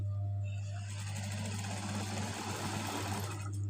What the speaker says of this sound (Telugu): దాన్ని ఇలా స్టిచ్ చేయండి